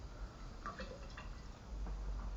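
Water drips in a few faint, soft plinks from the opened carburetor of a Troy-Bilt push mower, heard close up against a low, quiet background.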